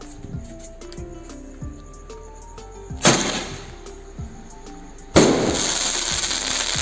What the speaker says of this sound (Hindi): ओह ऑसम ऑसम, बहुत ही शानदार स्काई शॉट है दोस्तों।